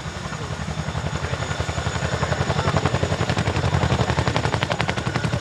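RAF Chinook tandem-rotor helicopter in an airshow display at Cosford, its rotors thudding in a rapid, steady chop that grows louder and denser over a continuous engine drone.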